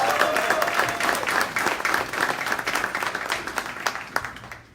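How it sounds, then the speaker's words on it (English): A round of applause for educators at an unsung heroes awards ceremony: sustained clapping from an indoor audience, steady and fairly loud, with scattered individual claps standing out and no talk over it. "Please, one last round of applause for our educators and those who work"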